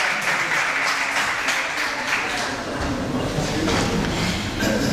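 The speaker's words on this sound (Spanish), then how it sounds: "No me aplaudáis eso." An audience claps in a dense, sustained round of applause through a speech on gender politics. The sound is fairly even and moderately loud, with no talking over it.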